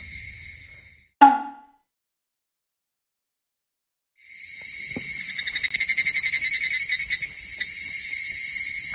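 Higurashi evening cicadas buzz in a loud, continuous, shimmering chorus, broken by a sharp knock and a few seconds of silence before the steady trilling resumes.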